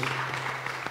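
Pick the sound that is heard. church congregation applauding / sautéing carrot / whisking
church congregation applauding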